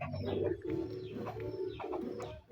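Racing pigeons coo close by in low, throaty, repeated rolling calls, overlapping in a continuous murmur.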